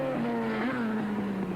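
A Honda NR750 racing motorcycle screams past at high revs during a 1987 road race at Calder, a loud, sustained high-pitched engine wail whose pitch sags slightly as it goes by.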